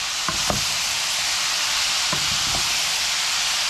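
Chopped onion frying in a small pot for a braised beef chili, a steady close sizzle with a few brief stirring scrapes and knocks, no talking.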